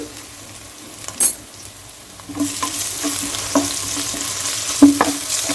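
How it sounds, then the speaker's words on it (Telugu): Onions with ginger-garlic paste fry in oil for a capsicum and tomato curry, a steady close sizzle that grows louder partway through, broken by scattered clinks and scrapes of stirring. "అల్లం వెల్లుల్లి పేస్ట్ కూడా ఆయిల్లో ఫ్రై అవ్వాలి"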